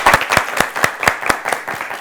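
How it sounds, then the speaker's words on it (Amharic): Children's TV quiz show audience in a studio clapping for two sixth-grade students, a lively burst of rapid, uneven hand claps throughout, fairly close and steady with no voices over it. "አጨብጭቡላቸው በደንብ አድርጋችሁ።"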